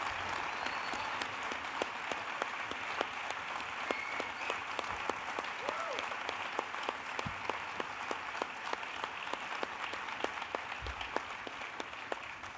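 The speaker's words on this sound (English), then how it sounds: "I think your applause is bigger than mine." A ballroom audience at a digital ball gives sustained, even applause, a broad wash of many hands clapping at a moderate distance, with a few sharper claps standing out.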